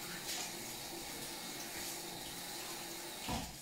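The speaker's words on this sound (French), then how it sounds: "Je vais me rincer les mains." A kitchen tap runs steadily while hands are rinsed during home cooking, giving a constant soft water hiss at a moderate distance that ends with a small splash.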